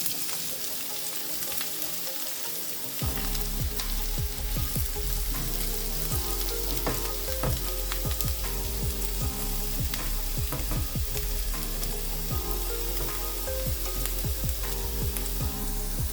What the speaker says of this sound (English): allow the carrot to cook down beautifully